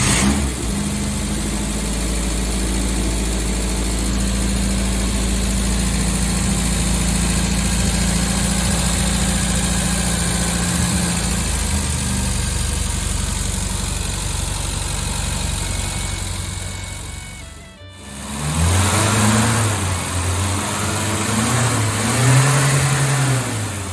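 A restored Morris Minor car engine runs steadily at a loud, rough idle with constant vibration, then dips for a moment before picking up again with a few light revs.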